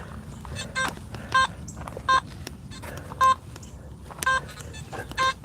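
Short, low metal detector beeping tones from buried iron chirp in irregular bursts over faint background rustle, several quick blips popping up one after another.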